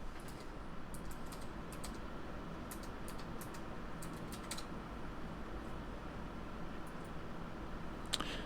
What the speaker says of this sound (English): And then we're going to type in the password.